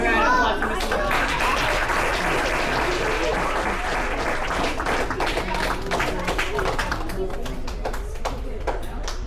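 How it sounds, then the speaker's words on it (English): An audience at a boxing and martial arts open house in Benicia applauds with steady, sustained clapping that fills the room, with some chatter mixed in as it slowly tapers. "Give a round of applause to Mr."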